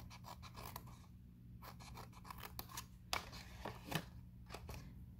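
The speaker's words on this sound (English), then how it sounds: "You'll cut all the way down to the second score line and then mirror that" Scissors snip and slide through cardstock for a Valentine treat box, in a steady run of close crisp cuts and scrapes with a low hum underneath.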